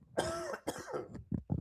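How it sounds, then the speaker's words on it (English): A few rough, close coughs and throat clearing in quick bursts, ending with two short, sharp coughs, during a livestream of a men's ice hockey game. "Sorry about the coughing."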